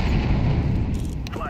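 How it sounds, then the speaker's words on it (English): Grenade blast in the Counter-Strike 2 video game, a loud sustained booming rumble filling the whole moment with a fading tail. "Throwing a grenade."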